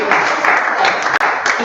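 Clapping from attendees at a Rotary Club celebration, a steady round of applause lasting under two seconds, fairly loud and blended with some room noise.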